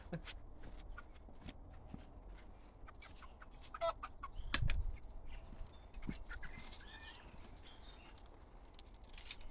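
Small metallic clicks and jangles come in irregular bursts as a padlock on a chicken coop is fiddled with up close, with a few chickens clucking faintly behind.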